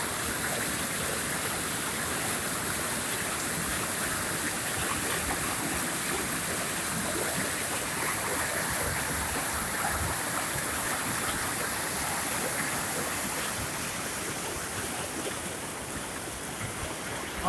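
A river in spring flood rushes past a village bridge, its water spilling around the sides in a constant broad roar that stays loud and even throughout, with no voices.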